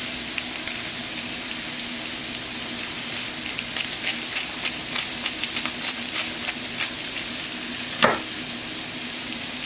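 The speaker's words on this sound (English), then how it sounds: "because I can hear these potatoes sizzling a little bit" Potatoes sizzle steadily in a frying pan, a continuous crackling hiss with a brief louder pop near the end.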